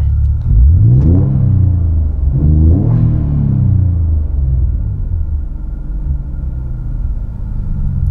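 An Infiniti Q50 engine, in neutral, revs up sharply twice, rising and falling in deep rumbling sweeps, then settles back to a steady idle.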